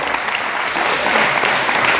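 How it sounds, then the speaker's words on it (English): Comedy club audience clapping for the parents in the room during a stand-up opening set, a loud, dense burst of applause that fills the whole moment. "Round of applause real quick,"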